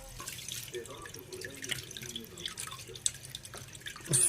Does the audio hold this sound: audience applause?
no